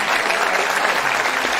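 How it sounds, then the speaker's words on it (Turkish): Audience applause welcoming a teacher invited to the stage at a Turkish ceremony, a dense, steady wash of clapping from a crowd that fills the whole short moment without pause. "Evet, size alkışlarınızla."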